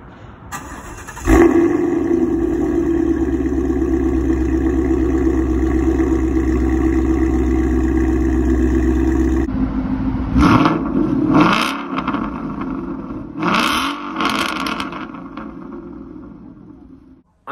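A 2017 Ford Mustang GT V8 fires up and settles into a loud, steady idle for several seconds, then is blipped through a series of sharp, rising revs, with a few faint voices in the background.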